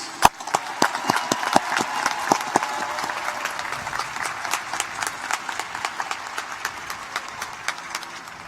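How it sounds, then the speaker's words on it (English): A large audience applauds student leaders at a Rice Business investiture ceremony for graduating classes, with a steady wash of many hands and sharp individual claps standing out near the start, then a sustained ovation with scattered crisp claps. "Please join me in a round of applause for these student leaders."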